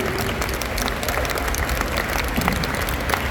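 A convention crowd at a German film and comic con Q&A gives a dense, continuous burst of applause, many hands blending into a steady roar.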